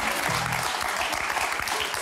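Studio audience applause on the French TV word game show Motus, a steady dense wash of clapping throughout, loud and close, with a brief low tone near the start.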